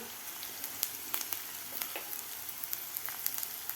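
Onion sautés in a pan with a steady fine sizzle and crackle, interrupted by small irregular spatters and faint stirring ticks, continuous and fairly quiet.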